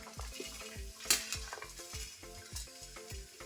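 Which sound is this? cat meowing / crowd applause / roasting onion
roasting onion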